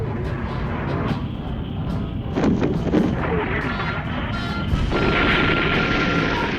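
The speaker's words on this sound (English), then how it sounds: "Autobot Skyfire attacks a military aircraft" Cartoon gunfire and booming explosions from a Transformers G1 battle in which the Autobot Skyfire attacks a military aircraft, a dense, continuous barrage of blasts and rumbling impacts with no talk.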